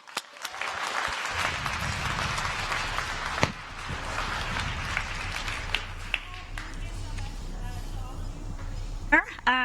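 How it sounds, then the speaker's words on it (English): Audience applause welcomes a speaker at the Startup World Cup Finland 2018 event, clapping rising then thinning into scattered claps with voices and stage noise underneath, fairly distant. "Make a big round of applause for Charlotte"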